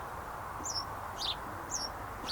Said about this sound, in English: It's hard to imagine the noise of the brick making here when you listen to the bird song.